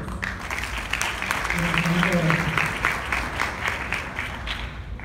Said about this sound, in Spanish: Le damos la bienvenida y un fuerte aplauso a la dama.